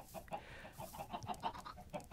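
Minecraft chickens cluck in a steady run of short, rhythmic notes, fairly quiet and close, with no talking.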